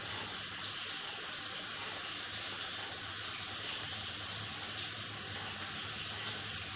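Water runs steadily into a drain line, a faint continuous hiss and rush with a slight gurgling undertone, no voices.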